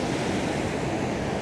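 A waterfall in Swaledale in the Yorkshire Dales gives a steady, dense rushing roar, close and continuous with no voices.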